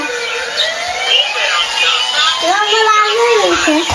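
A toy ambulance siren wails, sweeping up and down continuously, bright and steady, with a faint voice briefly underneath near the end.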